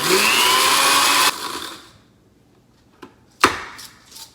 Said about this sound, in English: take these garlic scapes and throw them in the blender